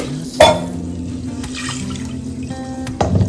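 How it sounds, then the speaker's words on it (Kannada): Water splashes briefly into a metal pressure cooker holding horse gram, with a short pour near the start and another splash at the end over a low steady hum. "ಇದಕ್ಕೆ ಸ್ವಲ್ಪ ನೀರು ಹಾಕೊಂತ"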